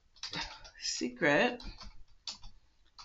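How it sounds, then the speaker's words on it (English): Computer keyboard typing in light bursts of key clicks, searching a product name on a beauty-product database site, close and fairly quiet, with some indistinct voice or mouth sounds mixed in. "So I'm going to type in"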